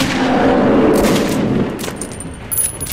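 Rapid gunfire in Metro 2033 inside subway tunnels, a dense burst of shots in the first half that thins into scattered cracks and metallic clinks, loud and close with no talking.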